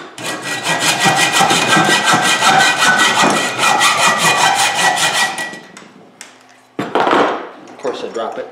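A grinder cutting a tooth into a Kool Mist coolant mount in a home shop, a loud steady rasping grind for about five seconds, then a pause and a shorter burst of grinding.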